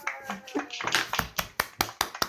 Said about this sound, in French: On applaudit bien fort, monsieur la Trouelle.